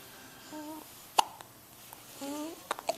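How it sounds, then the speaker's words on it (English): Baby hiccups, two or three sharp little hiccups spread across a few seconds, close and soft, with faint coos and an adult voice murmuring between them. "You have the hiccups?"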